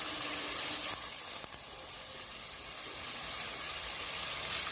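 Chicken meat poured into a hot pan of spiced curry masala, giving a steady wet hiss and sizzle with a faint clatter at the start. The sound is close and moderately quiet, with no voices.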